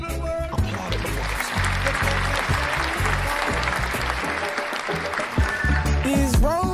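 An audience claps steadily for about seven seconds, a dense, loud wash of applause with a few brighter accents near the end.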